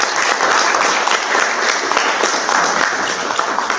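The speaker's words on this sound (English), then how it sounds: "All right, big round of applause to all the panelists." An audience at a national youth leadership conference applauds the panelists, a dense and steady burst of clapping that is loud and close, with no talking.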